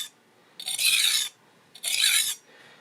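Knife blade drawn across a coarse 300 grit diamond sharpening stone, giving two distinct, close, loud rasping strokes that each last about half a second, with quiet pauses between them.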